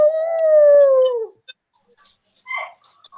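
A dog howls in one long, loud, wavering note that trails off after about a second, followed by a brief yip and faint rustling, with no talking over it.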